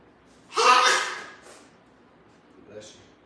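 One sharp sneeze bursts out nearby in a workout setting, loud and breathy, followed by a faint exhale.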